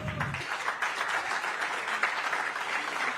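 Audience applause at a cyber hackathon prize-giving ceremony in Nagpur, a sustained even roll of many hands clapping that holds steady throughout.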